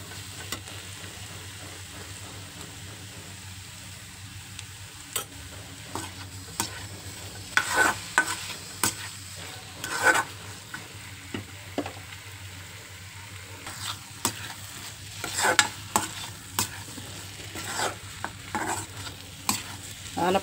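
Bottle gourd fries in a pan with sesame powder. A soft, steady sizzle runs the whole time, and frequent sharp scrapes and clinks of a spoon stirring break through it, with no talking.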